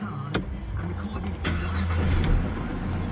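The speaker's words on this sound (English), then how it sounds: "I'll just start the car." A 2008 Mercedes C 200 Sport automatic with a supercharged 1.8-litre engine is started. There is a short starter crank, then the engine catches and settles into a smooth, quiet idle close by, with a couple of sharp clicks.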